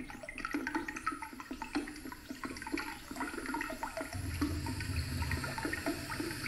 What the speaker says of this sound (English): I'm gonna pour the last of the nitro in for this shoot.